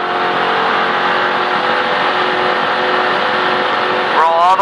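A NASCAR race car engine coming back onto the throttle, holding a loud, steady, close drone for several seconds before rising into a brief rev at the end.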